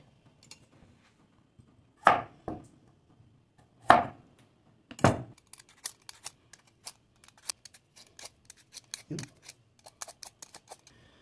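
Ingredients for sinigang na tanigue with taro root and vegetables are sliced in a few firm, separate cuts followed by a run of quick light taps, close by, with a voice briefly present.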